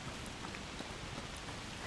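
Even, dense rain from the video game A Plague Tale: Requiem, a continuous close patter and hiss of drops holding at one level, with no speech.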